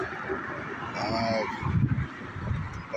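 Birds call out over open water, with a brief honking, goose-like cry in the middle. It sits fairly faint against a steady wash of wind and surf, and no one speaks.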